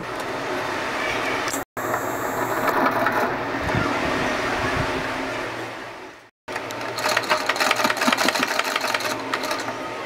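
A sewing machine stitching a frill pillow cover made from old tops, whirring steadily and fairly loud, cut by two brief silences before the stitching resumes.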